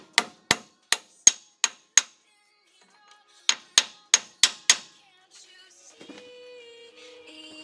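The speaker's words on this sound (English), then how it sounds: "we're just going to tap it in until it's flat" A hammer tapping an axle seal into the rear axle of a 2000 Ford Ranger: two quick runs of five and six sharp metallic taps, close and crisp, followed by a faint rattle and low hum.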